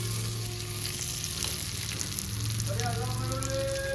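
Pieces of fish sizzle and crackle steadily in hot oil in a pan, a continuous close frying hiss with a few brief tonal sounds rising near the end.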